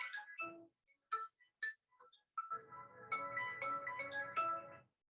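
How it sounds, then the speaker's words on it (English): A mobile phone ringtone goes off during a leadership presentation: a few short melodic notes, a pause, then a louder run of repeating chiming tones that plays on its own before cutting off. "my phone just went off"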